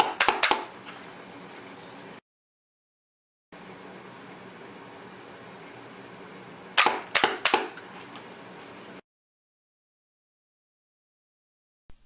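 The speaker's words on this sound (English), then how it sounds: "here is some quick video of these various devices being fired" A 3D printed 3-shot ammunition device fires in three sharp, loud reports close together, with a couple of brief cracks near the start, all over steady background hiss and broken by stretches of near silence.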